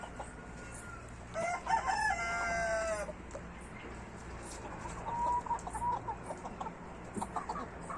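Leghorn chickens in a garden: a rooster lets out a full, loud crow, then softer clucks and a second, fainter crowing call follow over quiet outdoor background.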